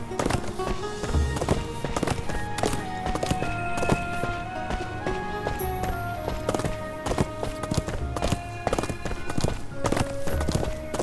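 Horse hooves clip-clopping in the video game Rangers Of Oblivion, a steady rhythmic trot of hoofbeats set against continuous game music with sustained tones, loud and close throughout.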